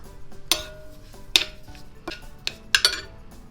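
A spoon stirs bulgur and hot water in a mixing bowl, giving sharp intermittent clinks against the bowl over a soft background, with no talking.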